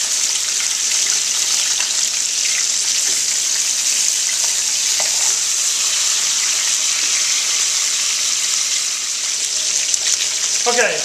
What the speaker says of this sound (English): we've got our short ribs seared